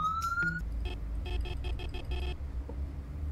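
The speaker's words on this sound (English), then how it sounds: "Lights, siren." A police car siren in a Roblox game starts with a rising electronic sweep, then pulses in a rapid run of short bursts before stopping, over a low engine rumble.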